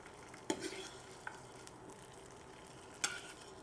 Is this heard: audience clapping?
no